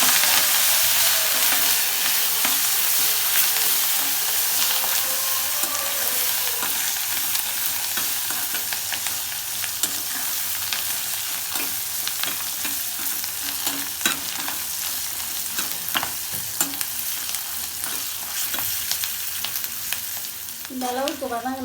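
Dried red chilies, green chilies, ginger, curry leaves and coriander fry in a pan for lemon rice, a dense constant sizzle with intermittent spoon scrapes, close up, a brief voice-like warble near the end.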